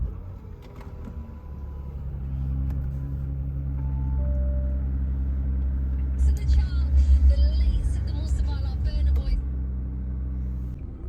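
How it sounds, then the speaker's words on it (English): A Bentley Bentayga W12 engine starts and settles into a deep, steady idle rumble, heard close and continuous, with a brief rise in revs partway through. "should we crack on and start this car up before we lose any interest?"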